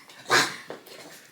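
A puppy indoors gives one sharp close bark, then a softer yelp and a short trailing whine, and a final bark starts at the very end; no one speaks.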